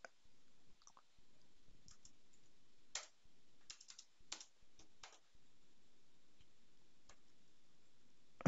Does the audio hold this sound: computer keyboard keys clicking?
yes